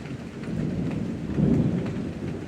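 Steady heavy rain pours down during a thunderstorm, with a deep rolling rumble of thunder swelling midway and then easing, all close and continuous with no voices.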